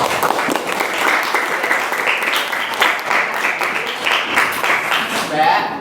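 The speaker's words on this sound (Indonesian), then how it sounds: "tepuk tangan untuk semuanya" Students in a junior high school classroom in Pekalongan give a loud, dense round of applause that carries on for several seconds, with voices mixed into the clapping.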